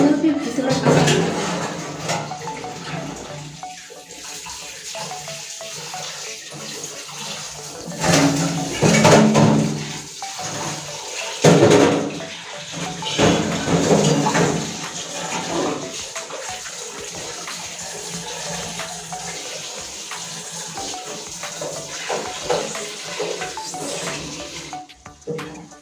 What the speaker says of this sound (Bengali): দেখুন তেলটা গরম হয়ে গিয়েছে, এবার পিঠাগুলো ছেড়ে দিচ্ছি আমি